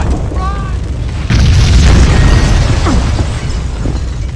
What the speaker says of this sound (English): building's blowing up